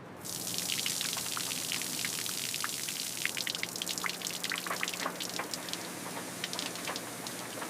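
Soft water drips and small splashes patter irregularly, quiet and close, over a faint steady background hum, as water loosens residue from a 1905 Panhard et Levassor 50HP Type Q car being brushed.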